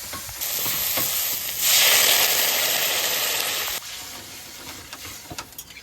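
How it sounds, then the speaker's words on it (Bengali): Water pours into a pan of sizzling spice masala and tomato for a fish curry, cooked in a pond-side kitchen. A loud hissing surge of steam rises for about two seconds, then drops back to a gentler bubbling sizzle. "মশলাটা সুন্দর করে কষাই নিচ্ছি, এবার জল দিয়ে দেবো।"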